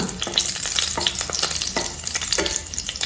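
Steady crackling sizzle of green chillies frying in hot oil, dense popping and spitting throughout, close and fairly loud with no talking.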